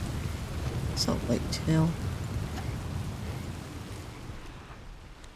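Steady rain hisses in the open-world game Red Dead Redemption 2, with low rumbles of thunder underneath, during a hunt in wet weather. A person speaks briefly over it.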